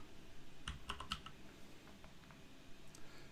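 Keyboard keys tapped while entering text in Microsoft Word, a short cluster of quick clicks followed by a few scattered, softer keystrokes, close and fairly quiet.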